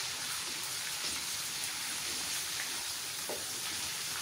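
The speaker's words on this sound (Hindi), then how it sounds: "अब इसमें अदरक ऐड कर देते हैं। और इसको भी हल्का सा फ्राई कर लेते हैं।" Garlic and ginger fry in oil with a steady, even sizzle that hisses continuously at close range, with no talk over it.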